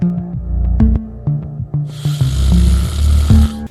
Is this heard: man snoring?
yes